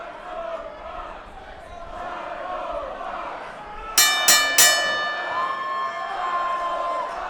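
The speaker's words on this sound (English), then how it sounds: "with that bell, it has officially started" A wrestling ring bell clangs three times in quick succession to open a heavyweight championship bout, the sharp metallic strikes ringing out over a steady arena crowd murmur, with commentary voices underneath.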